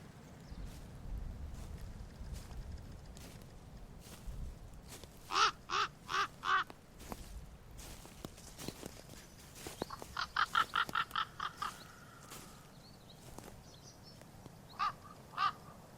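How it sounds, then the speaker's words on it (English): A raven calls in a forest, giving several bursts of hoarse, croaking caws in quick series, moderately distant over a low, rumbling background with faint rustling. "Many of you have likely heard that call before of the raven"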